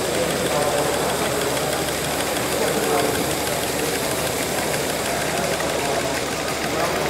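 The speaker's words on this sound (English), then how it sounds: "That's a Stirling cycle engine." A Stirling cycle engine runs steadily and loudly in a machinery museum, with a continuous mechanical drone and a fast, even knocking rhythm throughout, and faint voices in the background.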